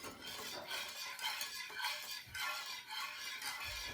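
Shrimp bisque soup being stirred in a pot, a steady scraping swish of the spoon against the pot with soft clinks, continuous and close with no talk.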